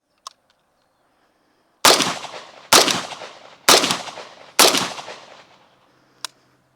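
Four loud, sharp AK47 rifle shots fired one at a time at roughly one-second intervals, each with a short ringing echo, after a brief quiet click and followed by a small metallic tap.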